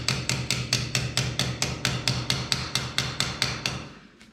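Rapid, evenly spaced hammer blows ring out close by during installation of a transparent glass shower screen, about fifteen sharp strikes in a steady rhythm that trail off into quiet at the end.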